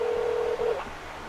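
Telephone dialing tones play while a call is placed to a Walmart store, a short steady tone followed by a brief pitch change over a constant line hiss.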